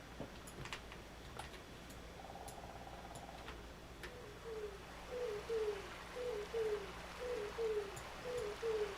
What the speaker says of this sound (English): We can add owl sounds.